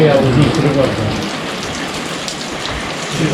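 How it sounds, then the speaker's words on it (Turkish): Steady rain hisses across a surface in a hillside village in İzmir, Turkey, close and fairly loud, with a brief voice murmur near the start. "Böyle yağmurlu bir hava var."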